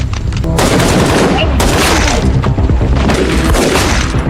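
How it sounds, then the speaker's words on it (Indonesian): Dense gunfire and explosive booms from a heist shootout in an action film, loud and continuous rapid bursts of shots with rumbling impacts throughout. "Terus-terusan digerondong peluru yang membuat Rook harus kehabisan peluru"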